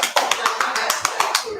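Rapid, evenly spaced hand claps come in a fast, rattling burst, roughly ten sharp slaps in quick succession.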